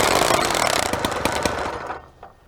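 A motorized bicycle engine, choked, fires up into a loud, rough, rattling run close by, then drops away to near quiet after about two seconds.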